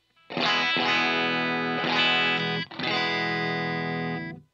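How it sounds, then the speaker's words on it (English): Guitar chords played through a Line 6 POD GO ambient preset, several strummed chords ringing out one after another with effects, distortion and modulation, fairly soft overall with no voice. "I've tried to play a chord right now and it's way too quiet"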